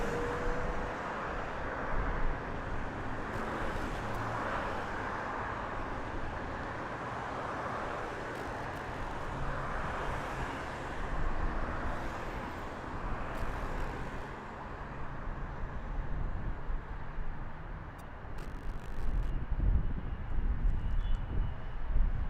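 A Delta Air Lines airliner at Las Vegas Harry Reid International Airport gives off a distant, faint jet roar. It swells and fades softly over a steady background of traffic and ambient rumble.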